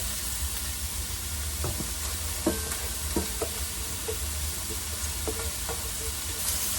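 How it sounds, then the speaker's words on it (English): Lentils going into a hot pot for Italian lentil soup, a soft steady sizzle with a few scattered scrapes and clatters of stirring, no talking. "Okay, let me add the lentils now."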